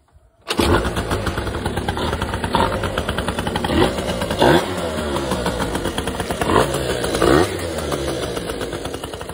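A PGO Hot 50 two-stroke moped engine with a new CDI box catches after a brief pause, then buzzes loudly with several sharp revs rising above a rattly idle.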